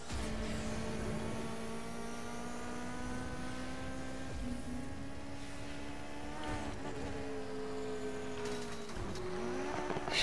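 A sports car engine in the Need for Speed video game, a continuous buzzing whine that climbs steadily in pitch as it accelerates, briefly drops at a gear change, then rises again, heard alone without talk.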